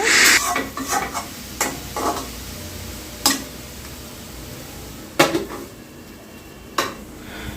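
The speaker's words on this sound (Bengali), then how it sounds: "কাঁচামরিচ ফোড়ন দিয়ে বেগুনটাকে আগে ভেজে নিচ্ছি" Eggplant frying in oil tempered with green chilies, stirred with a utensil that clinks against the pan in sharp, scattered knocks over a steady low sizzle.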